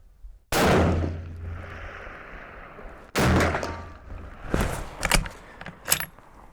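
Gunshots at an outdoor desert shooting range in Palmdale: two loud, sharp blasts a few seconds apart, each followed by a rolling echo and tail, then a few quicker, fainter cracks and clatter toward the end.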